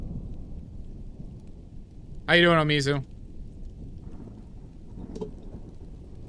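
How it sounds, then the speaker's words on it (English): Steady rain falls throughout a thunderstorm, a soft broadband hiss with low rumbling underneath, continuing quietly behind a brief burst of speech from a person nearby. "I just have the storm that follows me around."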